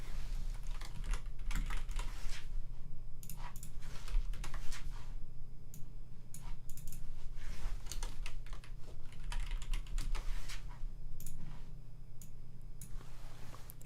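Steady bursts of keystrokes on a computer keyboard, close and fairly loud, typing a name in quick irregular runs with short pauses over a low background hum.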